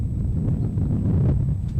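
Strong wind buffets the microphone at an outdoor high school soccer match, a continuous loud low rumble with gusty swells and no talking.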